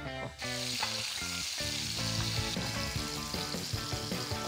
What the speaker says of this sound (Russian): Мясо соли, перчим и выкладываем на раскаленную сковородку.